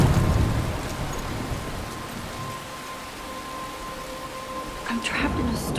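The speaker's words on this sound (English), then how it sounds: "I'm trapped in a storm?" A rainstorm in the video game Life is Strange: steady hissing rain with low thunder rumbling at the start and faint crackling bursts near the end, while a voice speaks over it.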